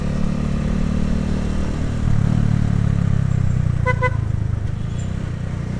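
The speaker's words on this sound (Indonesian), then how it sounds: "Klakson gua kayak mobil-mobil angkot." A 2010 Minerva R150 VX motorcycle gives a short double honk of its horn over a steady, close engine rumble while riding along a road.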